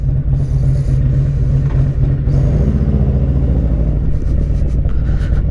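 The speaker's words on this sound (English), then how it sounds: "Bassani exhaust 2-in-1 with a ghost pipe." 2022 Harley-Davidson Street Glide Special with a 131 Screamin' Eagle kit and a Bassani two-into-one exhaust rumbles close by with a loping, uneven idle, a deep throbbing pulse that rises briefly in a light blip.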